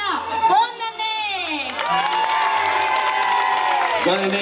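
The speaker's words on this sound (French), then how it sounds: "applaudit très fort, s'il vous plaît." A crowd at a Lunar New Year show in Saint Paul, Réunion, cheers and shouts loudly, with whoops and children's voices rising over scattered applause.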